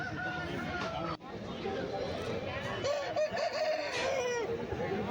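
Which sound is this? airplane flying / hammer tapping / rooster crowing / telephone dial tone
rooster crowing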